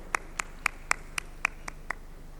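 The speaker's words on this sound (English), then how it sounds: "Please give a big round of applause." Scattered clapping at an ICAI session as a council member is called to the dais: eight sparse, evenly spaced claps, faint and distant, with no crowd swell behind them.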